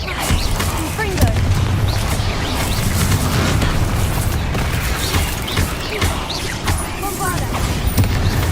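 Confringo spell blasts in the video game Hogwarts Legacy burst repeatedly through busy combat audio, sharp booming pops and crackles scattered over a dense bed of game effects and music, with no spoken words.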